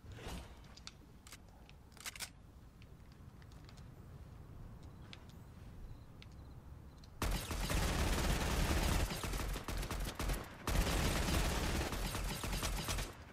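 Gunfire in Fortnite on Nintendo Switch: a quiet stretch of scattered distant shots, then loud sustained bursts of rapid fire with a brief break before another dense volley.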